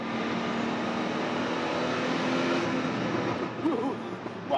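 A 1979 Porsche 935 turbo race car from the Daytona 24 Hours runs as a loud, steady engine drone, held close and unbroken, then eases toward the end, with no talk over it.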